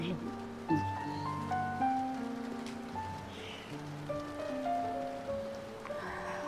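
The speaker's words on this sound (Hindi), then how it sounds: "बाहर बारिश हो रही है" Soft steady rainfall patters in the background while people talk over it, with music-like tones layered on top.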